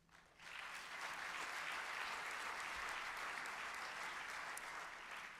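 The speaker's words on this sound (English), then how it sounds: "Let's give them a round of applause for arriving at this point." Sustained applause swells up quickly from a large crowd honoring graduates at a South African university spring graduation ceremony, a broad, even wash of clapping that holds steady, slightly distant in a big hall.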